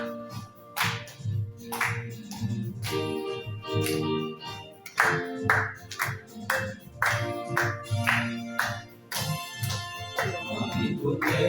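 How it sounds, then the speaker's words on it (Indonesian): Church congregation hand clapping in a steady rhythm over worship music and singing voices, moderately loud and continuing throughout. "Tepuk tangan buat Tuhan."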